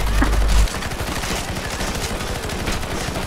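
Rapid gunfire bursts in CS:GO Zombies on the Lila Panic Escape map, a dense crackle of shots following a brief loud thump, continuous and fairly close throughout.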